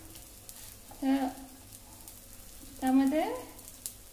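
Precooked mutton pieces go into masala in a pan, giving a steady sizzle and frying with stirring. A voice speaks briefly twice over it.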